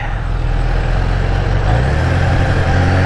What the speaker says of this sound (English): I hear somebody revving.